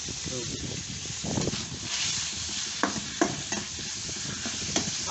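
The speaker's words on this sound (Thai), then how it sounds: "ทำไมผมเลือกผัดหมูก่อนว่าหมูมันสุกยากครับ" Pork stir-fries in a hot pan for Thai basil stir-fry, giving a steady sizzle with scraping stirs and occasional sharp clicks of the utensil against the pan, close and continuous.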